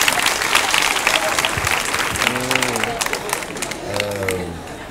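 An audience at a scholarship award ceremony breaks into sustained applause, dense and loud, with cheers and voices rising through the clapping.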